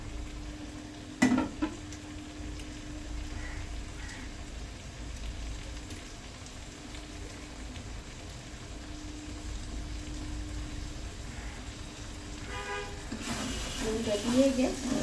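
Quiet, steady scraping and faint sizzling as fish bharta is stirred in a pan with lemon leaves, a clatter near the start and brighter clinks toward the end.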